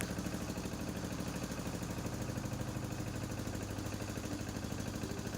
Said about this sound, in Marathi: होडी सुरू झालेली आहे